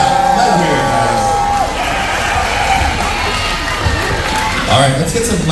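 Audience at a closing-night show for a haunted attraction cast at an amusement park, screaming and cheering loudly and continuously, a dense crowd roar with whoops and shouts throughout.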